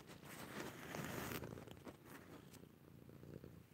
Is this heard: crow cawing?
no